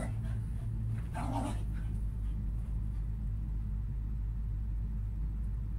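Puppies bark and whimper in a room, one brief burst of yips standing out early, faint against a steady low rumble and loud background noise.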